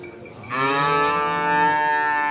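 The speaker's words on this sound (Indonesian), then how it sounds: "Ini adalah sapi yang selalu datang dan pergi di pintu masuk peternakan." A cow at the Payakumbuh livestock market in Indonesia lets out one loud, sustained moo close by, rising out of faint background crowd noise.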